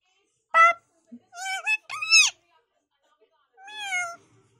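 A cat meows several times, short rising and falling cries with pauses between, close and fairly clear, with no other sounds behind them.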